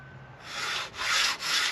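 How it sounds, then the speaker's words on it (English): Sandpaper rubs across a wooden guitar brace blank in two or three steady back-and-forth strokes, close and fairly quiet, with a soft hiss and no voices. "is not to press down hard when you're sanding"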